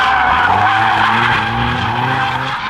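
A drifting car slides with a sustained tire skid, a loud continuous screech over a straining engine whose pitch shifts as it holds the slide, close and unbroken.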